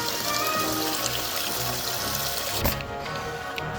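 Water gushing steadily from a freshly primed pump line at a wilderness homestead, a loud continuous close pour that thins slightly near the end.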